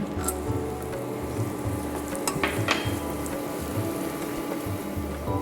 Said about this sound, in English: These raisins in same oil.